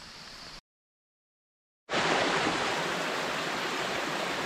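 A river stream flows steadily at a campsite as a broad, even rush of water that stops briefly and then resumes loud and close, with no voices.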